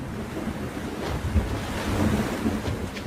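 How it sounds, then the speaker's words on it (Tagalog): Flood water rushes from a river as a story sound effect, a loud, continuous roar of churning water and wind-like noise that swells slightly toward the end, with no voices. "Nakita ko yung malaking tubig na rumaragasa galing sa ilog."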